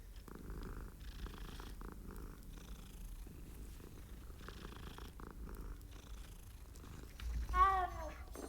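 A cat purrs steadily at low volume in Hogwarts Legacy, set against faint game ambience, ending with a brief louder chirping meow-like sound near the close.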